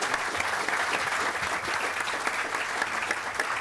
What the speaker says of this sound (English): So can I just please get a big round of applause for our excellent panel.